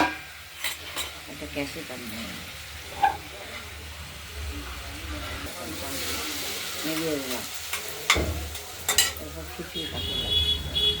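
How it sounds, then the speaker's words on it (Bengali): A spoon stirs a bottle gourd and small shrimp curry in a pan, with scraping and clinking over a steady sizzle, close by, while a voice talks intermittently. "আপনারা দেখতে থাকুন এটাও নাড়াচাড়া দিতে হবে"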